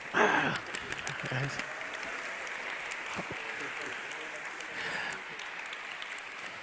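Audience applause at a gala, a steady wash of clapping that swells briefly at the start and again near the end, with a voice talking over it.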